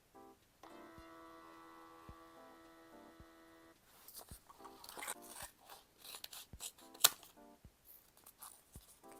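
Scissors snip paper for a bullet journal, a handful of short, crisp cuts spaced through the clip over a steady tonal hum, with rustling paper handling in the second half.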